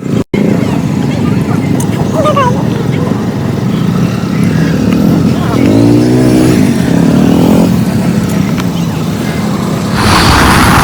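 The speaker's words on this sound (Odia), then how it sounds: "ଫାଇନାଲି ଆଜି ବର୍ଷା ଗାଡ଼ି ଚଲାଉଛି" A car's engine runs loud and close throughout, rising in a revving surge midway while a first-time driver takes it along a road, with people talking over the steady motor noise.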